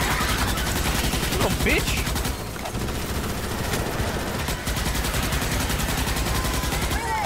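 Dense, near-constant automatic gunfire and overlapping rifle bursts in the Starship Troopers: Extermination video game during a firefight against bugs, loud and steady throughout, with a voice briefly cutting in over the shooting.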